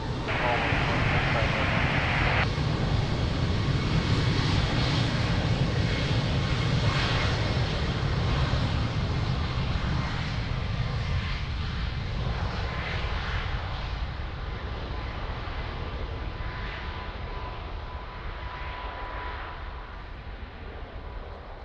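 An airliner takes off from runway 02 at Lisbon Airport, its loud, steady engine roar filling the scene before slowly fading as the aircraft climbs away, with radio voices heard faintly beneath it.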